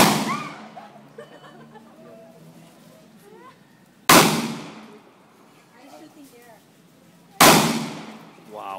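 Three sharp, loud gunshots from an Armscor .22 TCM pistol fired into a watermelon, spaced several seconds apart, each with a brief ringing decay, with quieter murmuring voices between shots.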